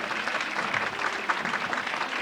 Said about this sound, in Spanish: Voy a pedirles un fuerte aplauso.